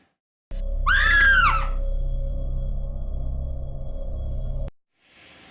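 Girls scream together in a horror film excerpt, a loud sustained shriek with rising and falling pitch over a steady low drone, ending abruptly.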